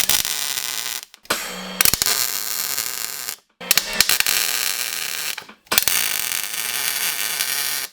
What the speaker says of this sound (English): I'm going to tack weld this side in.